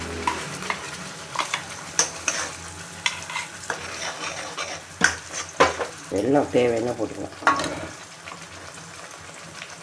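Rose-flower chutney fries in sesame oil with curry leaves and mustard seeds in a pan, a soft sizzle broken by repeated scraping and clinking stirs, while someone talks over it.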